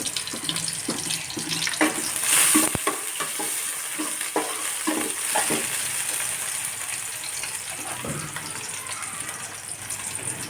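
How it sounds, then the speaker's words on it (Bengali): Pomfret fish cooking with spices in a pan, with steady sizzling and frying and intermittent stirring scrapes, plus a brief burst of running water partway through, close and fairly loud with no talk. "রূপচান্দা মাছ রান্না করছি"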